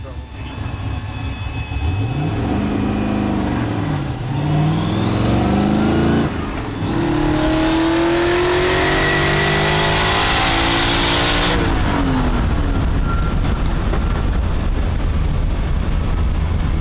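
A turbo LS-swapped G35 race car accelerates hard through the gears, its loud engine rising in pitch, dropping at each shift, then climbing again, heard from inside the car with wind and road roar.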